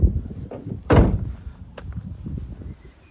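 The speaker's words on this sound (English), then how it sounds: "Side loading door" Sliding side loading door on the passenger side of a 2019 VW Crafter 2.0 TDI van with sound deadening, rolling and shutting with one solid close-up slam followed by a softer thunk and light rattling.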